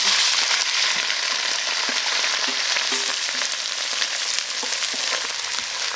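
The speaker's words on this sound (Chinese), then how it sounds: "先把这个羊肉下锅爆炒" Mutton stir-fries in hot oil in a wok, giving a loud, steady sizzle and crackle that holds throughout, with faint scraping of the meat being moved around and no voices.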